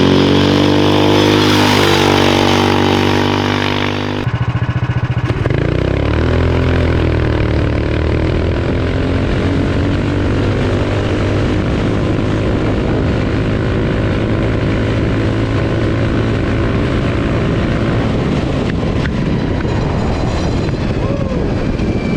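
An XXL go kart fitted with a Gravy Bones 440cc engine revs hard at first and then drops abruptly into a rough, rumbling drive that stays loud and close to the end.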